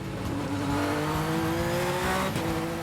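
A Pikes Peak race car screams through a fast sixth-gear corner near 240 km/h, its high engine note rising steadily and loud, with tire noise under the sustained roar.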